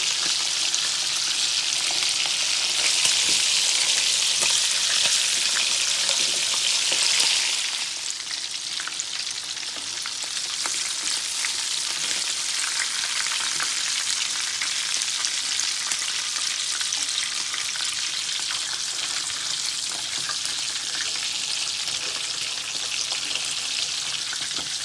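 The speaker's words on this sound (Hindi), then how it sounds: "चिकन हम फ्राई कर रहे हैं, तो जब ये फ्राई हो जाएगा तो फिर हम इसे चावलों में डालेंगे।" Chicken pieces frying in hot oil in a pan for an Arabian chicken kabsa, a steady loud sizzle that runs throughout, slightly more intense for the first few seconds and then settling.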